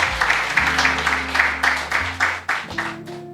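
An audience at a debate event claps as a debater is introduced, rhythmic rounds of applause over sustained background music, moderately loud and without talking.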